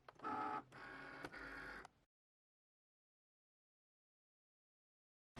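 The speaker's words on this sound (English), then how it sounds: "I'm just going to load my mat into my Cricut and cut it out" A Cricut cutting machine cuts printable transfer paper loaded on a mat, giving a steady mechanical whir with short motor bursts for about two seconds before it stops and silence follows.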